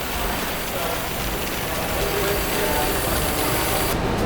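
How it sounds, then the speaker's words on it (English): An auger filler on a B/SV/600 fill-to-weight machine empties its hopper with the auger and agitation blade running, giving a steady mechanical whir and rattle throughout. "I would do empty hopper, which turns on your auger and your agitation blade"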